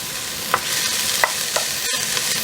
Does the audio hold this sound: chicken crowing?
no